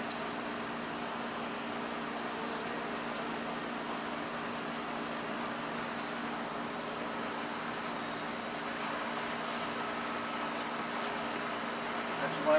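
Honey bees buzz steadily inside a hive on fresh new comb, a dense, continuous insect drone with a high whine that holds at an even level throughout, with no talking.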